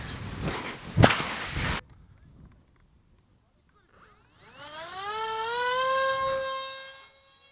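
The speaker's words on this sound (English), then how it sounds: "This is the maiden of the ZOHD Dart Swept-forward wing." A ZOHD Dart swept-forward wing RC plane on its maiden flight: gusty handling noise and a sharp whoosh, a short quiet gap, then a loud electric motor whine that rises in pitch as it spools up and holds.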